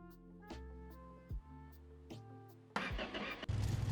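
A Chevrolet El Camino in a garage cranks with a few starter whirs before the engine catches and roars loudly to life. The rough, noisy running follows the quieter cranking.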